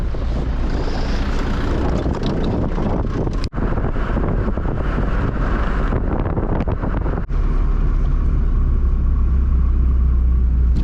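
A cab on a highway in the Gambia, heard as a steady engine and road rumble with heavy wind buffeting against the microphone, continuous and close throughout.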